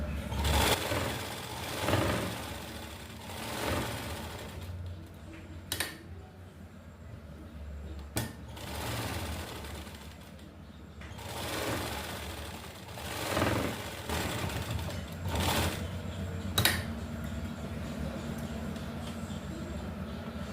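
Domestic sewing machine stitching a fabric strip onto a designer neckline, running in bursts of rapid mechanical whirring separated by short pauses and sharp clicks, close and moderately loud.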